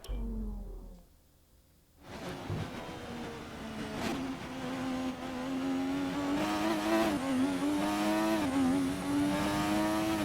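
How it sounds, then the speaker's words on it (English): A 1988 McLaren Formula 1 car engine in the video game F1 2020, starting briefly and then holding a loud, steady high-pitched whine that climbs and shifts with gear changes throughout. "we're driving an 88 McLaren"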